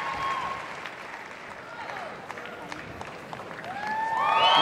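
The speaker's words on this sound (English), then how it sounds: "And this crowd, it sounds like overtime at the Garden." Crowd at the Westminster Dog Show Best in Show ceremony cheering and applauding in a large arena, a steady roar that swells louder toward the end, with whistles and voices mixed in.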